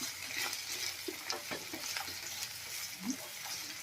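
Finely chopped potatoes being stirred in a frying pan while making batata poha: a steady sizzle with soft scraping stir strokes throughout, close and moderately quiet.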